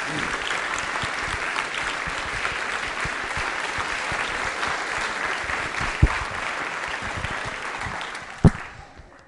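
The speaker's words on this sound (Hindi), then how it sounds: "तालियां बजाइए शिखा जी के लिए" A school quiz show audience claps loudly and steadily for several seconds, the applause thinning out at the end with a couple of sharp knocks.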